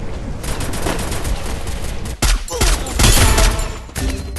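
Sniper fire and heavy gunfire in a squad battle-royale video game crackle as loud, dense, continuous volleys, with several abrupt sharp cracks partway through.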